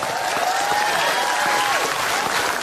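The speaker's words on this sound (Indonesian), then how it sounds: "tepuk tangan dulu dong" A studio audience at an Indonesian comedy talk show applauds in a steady, dense wash of clapping, loud and continuous throughout, with faint tonal sounds underneath.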